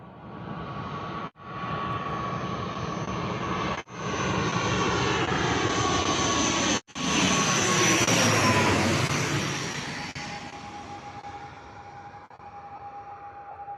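An airplane passes directly overhead at Bristol Airport, its loud engine roar swelling to a peak and then fading as it moves away, with brief cuts in the sound along the way.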